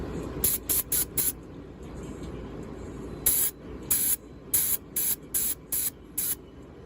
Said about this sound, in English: I'll be testing this out before I spray it on my windows